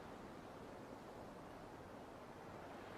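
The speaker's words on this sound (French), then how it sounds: "Et tu continues à être bercé par le rythme naturel des vagues" Soft, continuous wash of ocean waves and surf, a faint even roar with no distinct breakers standing out.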